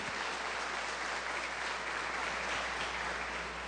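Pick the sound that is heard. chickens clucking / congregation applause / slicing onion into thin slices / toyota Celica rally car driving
congregation applause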